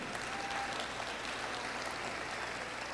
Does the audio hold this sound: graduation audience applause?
yes